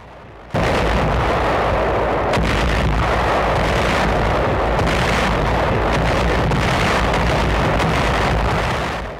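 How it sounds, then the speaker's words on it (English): World War II-era artillery fire booms in suddenly and loud, followed by a sustained roaring barrage of blasts and rumbling that fades slightly at the end. "artillery fire was the deadliest weapon that the World War II soldier had to contend with on all fronts."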